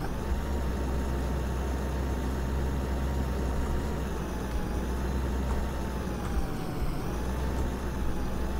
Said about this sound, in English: This is a big tractor